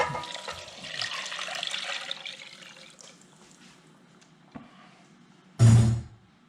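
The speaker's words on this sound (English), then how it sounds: "now what we're going to do is add the stock" Stock poured into a pot of reddened oil, a steady close splashing pour that fades out, followed by a short sharp burst of splash or clatter near the end.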